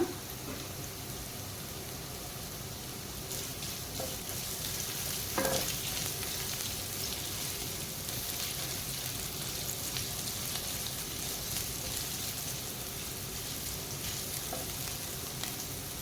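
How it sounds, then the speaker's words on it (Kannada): Ginger frying in a pan of leftover oil for Gobi Manchurian produces a continuous dense sizzle over sixteen seconds, with a few faint clinks of stirring and no talking. "ಶುಂಠಿಯನ್ನು ಹಾಕ್ಕೊಳ್ಳೋಣ ಇದನ್ನು ಫ್ರೈ ಮಾಡ್ಕೊಳ್ಳೋಣ"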